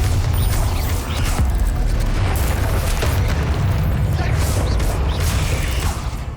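A booming magical blast from the Bombarda spell in Hogwarts Legacy combat, a loud, heavy rumble with crackling debris that sustains through the whole stretch over a dense game background.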